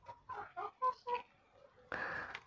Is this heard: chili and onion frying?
no